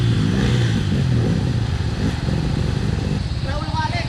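A trail motorcycle at a Bulacan dirt riding spot pulls out fast, its engine revving hard and rough, with clattering noise and shouting voices over the top.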